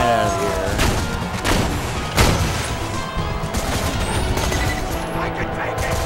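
Gunfire and explosive booms from the video game Borderlands 2 fill a dense, continuous battle mix, with sharp shot bursts around the middle, game music and effects running underneath throughout.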